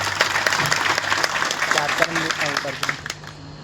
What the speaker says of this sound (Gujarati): એકવાર આપણે જોરદાર તાળીઓ પાડીએ